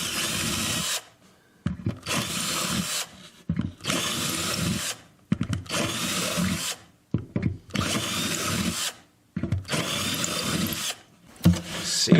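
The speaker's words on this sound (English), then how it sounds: "I'm just going to re-drill these holes." A power drill re-drills holes in six separate bursts, each a few seconds long with short pauses between, loud and close with no voices.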